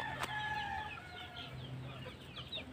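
Gamecock roosters on a farm cluck and call in overlapping bursts, with a brief sharp cry near the start, over a steady background of farmyard noise.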